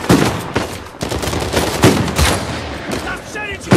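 Gunfire in the video game Uncharted 4, a dense run of sharp shots and bursts that fills the whole stretch at close, loud level with no voice over it.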